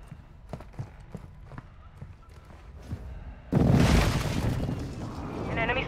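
In Call of Duty: Warzone 2.0 on Ashika Island, scattered soft thumps give way to a sudden, loud precision-airstrike explosion. A dense, roaring rumble follows and lingers to the end.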